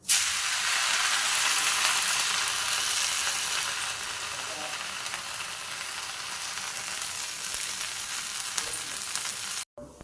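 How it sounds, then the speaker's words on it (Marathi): Sabudana thalipeeth sizzles in ghee on a pan, a loud, steady hiss of frying that starts strong, eases slightly partway through and then holds constant before cutting off abruptly near the end. "थोडंसं तूप घालून घेऊया आधी. आणि आता आपण तयार केलेलं थालीपीठ घालून घेऊयात."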